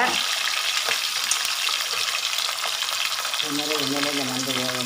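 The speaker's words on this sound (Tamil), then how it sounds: "எண்ணெய் நல்லா காஞ்சிருச்சு இப்போ எடுத்து வச்சுருக்க தக்காளியும் வெங்காயத்தையும் போட்டுக்குவோம் போட்ட உடனே நண்டு தூக்கி போட்டுக்கோங்க" Crab fries in hot oil with tomato and onion, a loud dense sizzle and stirring throughout, with a humming tone appearing in the latter part.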